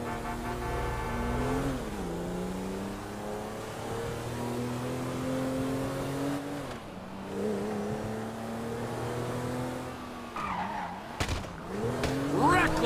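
A car in GTA V, driven recklessly, squeals and skids repeatedly with a whining engine pitching up and down, loud and close, with a brief sharp knock near the end.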